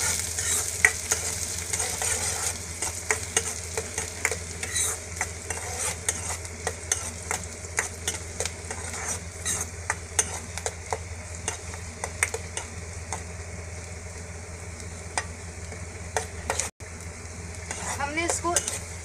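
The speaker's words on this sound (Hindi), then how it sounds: "उसमें अनियन डालेंगे, गार्लिक और उसको सॉटे करेंगे" Onion and garlic sauté in hot oil in a pan, a steady soft sizzle running throughout with light stirring scrapes, fairly quiet, with a brief clatter near the end.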